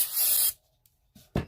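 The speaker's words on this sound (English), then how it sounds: "I'm going to use this multi-purpose silicone lubricant. We're going to spray the cups." Multi-purpose silicone lubricant hisses from an aerosol can onto cups in one short, close burst, followed by faint handling knocks and a brief rub near the end.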